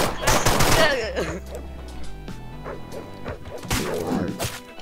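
Gunfire in the Deadbolt video game, with a burst of rapid shots at the start and another near the end, and softer thuds and hits in between.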